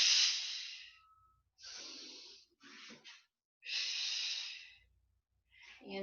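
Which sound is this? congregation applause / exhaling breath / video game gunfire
exhaling breath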